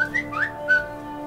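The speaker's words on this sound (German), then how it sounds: "Ja, was pfeift denn da so? Das ist ja mein Handy mit einer Nachricht." A phone's message alert in South Park: The Fractured but Whole plays as a short, bright whistled phrase of a few rising and falling notes, clear and alone.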